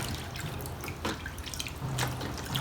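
Water trickles and drips steadily nearby as dirty garden clippers are rinsed and cleaned, irregular droplets over a constant wet wash.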